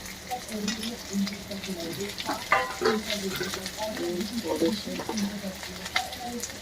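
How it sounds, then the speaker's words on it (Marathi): Garlic cloves, ginger and coconut frying in a pan, giving a steady close sizzle with occasional stirring scrapes and clinks throughout. "आणि त्याच्यामध्ये मी थोडंसं लसणाच्या कांड्या आणि लसणाच्या कळ्या आणि अद्रक खोबरं त्यातच मी फ्राय करून घेते"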